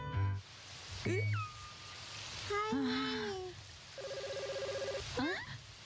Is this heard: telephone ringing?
yes